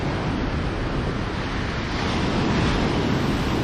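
Ocean surf rolls onto a beach in Mangaluru at sunset, a steady loud wash of waves mixed with wind buffeting the microphone, continuous with no voices.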